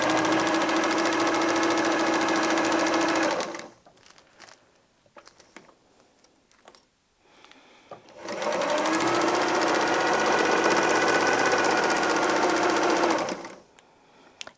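A sewing machine stitches binding onto a very large quilt, humming steadily for several seconds, pausing amid soft fabric shuffling and clicks, then running again in a long, even burst before stopping.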